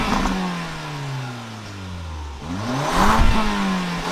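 A Porsche Macan with the 2.0-litre four-cylinder engine revs up and down several times. The note is loud and close, rising and falling in pitch, and no one speaks over it.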